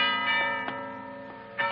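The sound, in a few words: monastery bell ringing, radio drama sound effect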